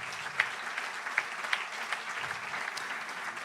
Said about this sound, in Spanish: Dele otro aplauso al Señor, aleluya.